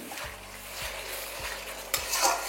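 A spoon scraping and stirring garlic and green chili paste into frying onions for a chana paneer masala, with several regular strokes against the pan over a soft sizzle, ending in a brighter clink of metal.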